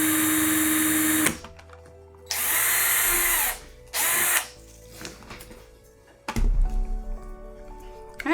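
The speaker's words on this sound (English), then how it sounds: "Jennifer drilled that hole in there" A small power drill whirs through a craft piece to make a tassel hole, in several short close high-pitched bursts separated by pauses with quieter handling noise.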